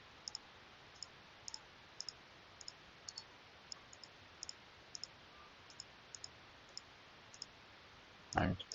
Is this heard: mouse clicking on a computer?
yes